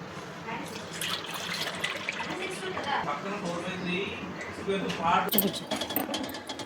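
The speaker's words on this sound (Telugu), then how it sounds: "ఇప్పుడు ఏంటంటే దానిలో వాటర్ పోసుకొని ఇలా పెట్టుకోవాలి." Water runs and splashes steadily into a pot while making junnu, with clinks and scraping of utensils mixed in and some background talk.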